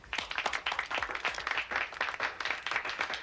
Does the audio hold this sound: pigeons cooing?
no